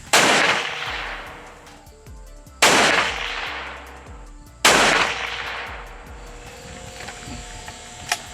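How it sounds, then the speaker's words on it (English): A gunsmith-built long-range rifle firing three loud, sharp shots a couple of seconds apart outdoors, each crack followed by a long rolling echo and decay, with faint rustling afterward. "I'm comfortable with it to run some shot strings down it and shoot some groups with it"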